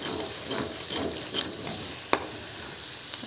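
Tomato masala chutney with coriander and salt sizzles steadily in a frying pan, close up, with a few sharp pops and crackles over a bright continuous hiss. No one talks.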